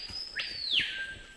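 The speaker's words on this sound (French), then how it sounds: "Là vous devez certainement entendre les oiseaux sentinelles" A single sentinel bird in the Amazon jungle gives one loud, clear call that sweeps high and then drops, set against faint forest background.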